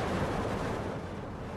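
Distant gunfire and artillery in the Steel Division 2 Karelia campaign, a dense, continuous rumble of battle noise with no distinct individual shots, steady and fairly loud without speech.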